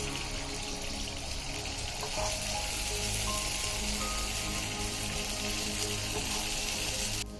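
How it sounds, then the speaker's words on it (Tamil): Sweet paniyaram batter poured into hot ghee in an appam pan, giving a steady, dense, crackling sizzle that stays close and even for the whole stretch. "மாவை ஊற்றிக்கலாம்."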